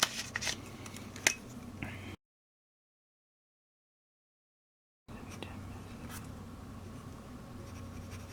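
A pen writes Noodler's Bad Blue Heron ink on copy paper, a close, faint scratching of strokes with small taps, broken by a silent gap before the scratching resumes.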